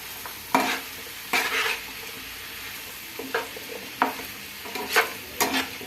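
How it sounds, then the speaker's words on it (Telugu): A spoon stirs a mix of ingredients in a pan. It comes in a few separate scraping strokes over a faint sizzle, with short pauses between them and no talking. "తర్వాత అన్నీ వేసాను కదా, కలబెట్టుకోవాలి."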